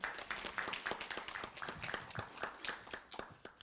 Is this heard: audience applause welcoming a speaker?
yes